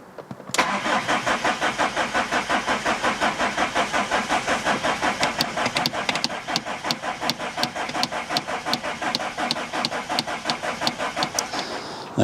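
A car engine on a project supercar cranks over with a rapid, rhythmic starter chug that carries on for several seconds without firing into a settled idle, loud and close with no voices.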